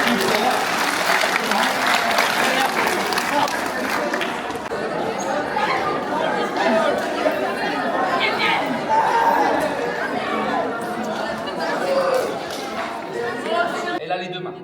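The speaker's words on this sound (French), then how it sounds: "on applaudit Romain et Dorian." Applause at a sitting volleyball session in a sports hall in Sarrebourg, steady and dense for about fourteen seconds, with crowd chatter and voices mixed in throughout before it cuts off at the end.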